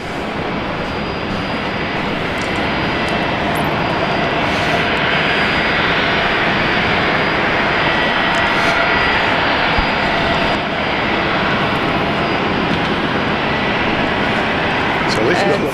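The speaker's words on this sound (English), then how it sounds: "So at least we've got the Fokkers coming out." Fokker airliner engines at Brisbane airport, a loud steady broadband roar that holds for the whole stretch without a break, close and dominant, with no voices over it.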